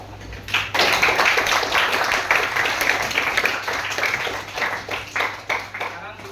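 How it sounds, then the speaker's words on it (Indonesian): Students in a classroom clap together after being called on to applaud, a dense patter of hands lasting several seconds, fairly close and steady with some voices mixed in. "kita kasih tepuk tangan dulu"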